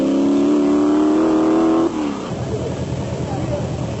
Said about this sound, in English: Richard Schilling and Ashley Thorne lead the field away in the Mototech Raceco with its V8 power and semi-automatic gearbox.